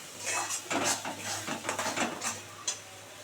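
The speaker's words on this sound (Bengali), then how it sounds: "এবার এটা শুধু কাজ হচ্ছে শুধু নাড়া" Soybean mash being stirred in a pan, a run of scraping, clattering strokes of a spoon against the pan, close and fairly steady.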